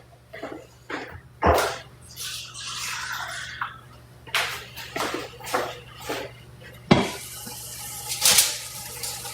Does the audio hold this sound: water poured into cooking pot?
yes